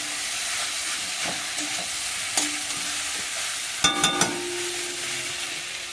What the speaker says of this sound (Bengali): আলুটা আর একটু কষিয়ে নেব